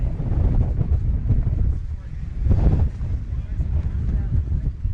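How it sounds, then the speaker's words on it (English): Strong wind batters the microphone at an outdoor sports field during a match, a loud, constant low rumble of gusts that swells and eases, with a voice talking under it. "Obviously, you can hear the wind really picking up."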